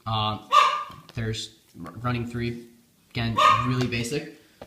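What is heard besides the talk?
dog barking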